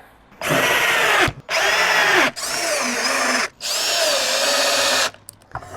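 A power drill drives screws into harvest-rack hardware in four long, loud whirring bursts with brief pauses between, the motor pitch sagging under load near the end of each run.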